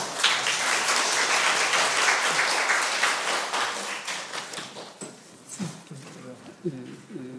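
An audience applauds the interpreter at a spiritual-studies academic conference, a dense crowd clapping loudly for several seconds before thinning out, with a few scattered claps and voices talking near the end.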